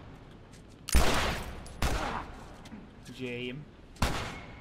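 Gunshots in the survival action game The Last of Us, with three sharp loud blasts spaced about a second apart over a quiet background and a brief voice between them.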